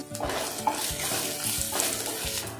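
Ginger-garlic-chili paste and cumin hitting hot oil in a pan, a loud close sizzle with stirring scrapes, no voices.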